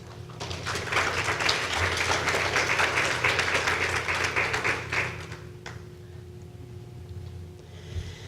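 An audience claps to congratulate award recipients at a respite program update session, a steady round of applause that fades after about five seconds, leaving quieter room sound with a low hum.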